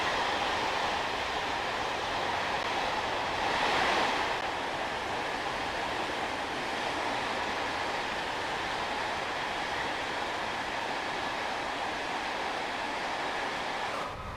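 Air-conditioning fans whirring inside a Class 86 electric locomotive cab in Train Sim World 5, a steady broadband rushing hum that stays even and continuous throughout, with no voices.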